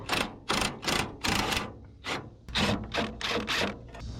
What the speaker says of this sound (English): Got our other bolt pulled out.